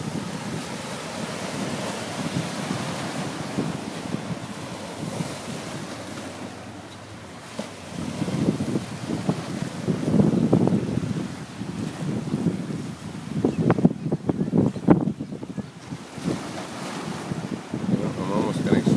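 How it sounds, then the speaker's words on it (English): Big ocean waves surge into a rocky cove, a rushing, swelling roar that builds in loud surges with heavy wind buffeting the microphone. "I see some big waves."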